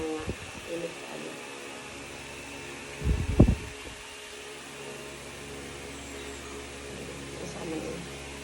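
An electric wall fan runs with a steady, moderate whir and hum that continues throughout. A short loud thump or clatter breaks in midway.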